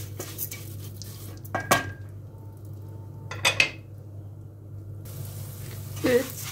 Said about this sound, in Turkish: Böyle pilavımızı karıştırıyoruz.